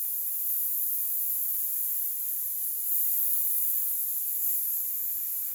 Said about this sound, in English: slowly loosen it until you hear the air being bled from the system